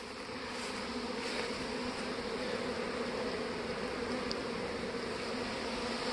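Steady, dense buzzing of a honeybee colony at the hive entrance, bees fanning the front, continuous and fairly close with no voices.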